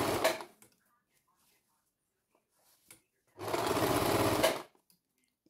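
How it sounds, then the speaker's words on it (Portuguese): A sewing machine runs in a steady buzzing burst of about a second, stitching the final seam of a fabric eco bag, after a short opening whir and a quiet pause. "Agora a agulha em baixo e vamos voltar para a última costura do saco"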